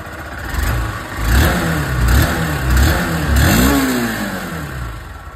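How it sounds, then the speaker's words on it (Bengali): Honda SP125 motorcycle exhaust, recorded close as the engine is blipped through several rising and falling revs over a steady idle, with a loud, throaty mid-pitched drone and no talking. "চলুন তবে এক্সস্ট সাউন্ড আমি আপনাদেরকে শুনিয়ে দিই।"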